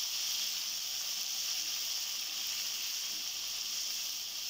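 Ingredients for a Kadapa-style tomato karam fry in hot oil, giving a steady, even hiss of sizzling throughout with no voices.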